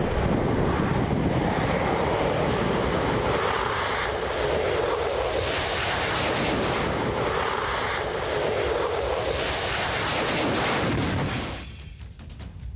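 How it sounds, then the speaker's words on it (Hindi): An F-15 fighter jet in flight produces a powerful, continuous engine roar that dominates throughout, dipping briefly near the end before returning; no one speaks. "F-15 फाइटर जेट ने आसमान में परवाज किया।"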